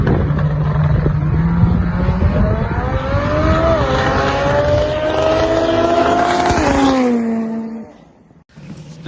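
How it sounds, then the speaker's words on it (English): Turbocharged stock-bottom-end 5.3 LS drag car with a 107mm turbo, loud and close at a no-prep race, engine roaring with a rising pitch that stumbles and breaks up near the top before cutting off. "The cars broke up really bad at the top, and you'll hear it in the video here."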